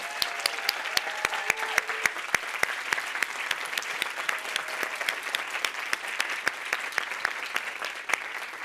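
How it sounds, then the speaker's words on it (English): Steady applause at the MIT Solve Challenge Finals plenary for the 2022 Solver teams and Indigenous Communities Fellows, an even crowd of clapping with a few sharp, close hand claps standing out and faint voices underneath. "another round of applause for our 2022 Solver teams and Indigenous Communities Fellows"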